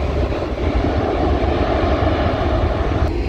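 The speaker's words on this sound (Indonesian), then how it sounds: "Alhamdulillah mendarat lagi pesawat Lion Air." Lion Air airliner landing at Sultan Hasanuddin International Airport in Makassar, its jet engine noise a loud, steady broadband roar sustained throughout with no talk.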